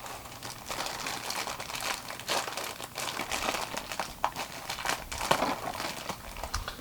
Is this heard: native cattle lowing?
no